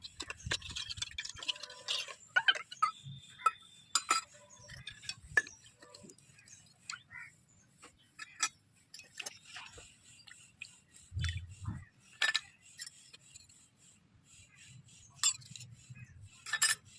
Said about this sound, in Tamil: ஒரு வழியாக ஜாமானை கழுவி முடிச்சாச்சு